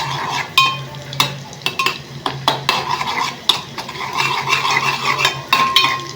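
Garlic paste fries in hot oil, a steady sizzle punctuated by repeated metallic scrapes and clinks of a spoon stirring against the pan, close and fairly loud.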